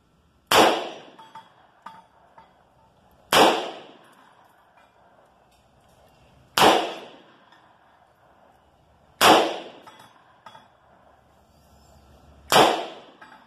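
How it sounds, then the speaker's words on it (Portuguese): A Taurus RT605 .357 Magnum revolver fires five loud, sharp shots at a shooting range during a steel challenge, evenly spaced about three seconds apart, each followed by a short ringing decay. "Vamos aos disparos."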